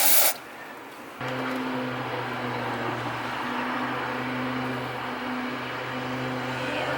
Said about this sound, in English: Contact cleaner.